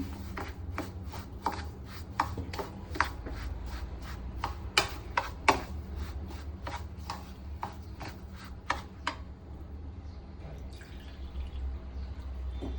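Semolina (rava) is stirred with yogurt in a bowl, giving a quick series of soft, evenly spaced wet taps and clicks. They run for several seconds and then stop, leaving a low background hum.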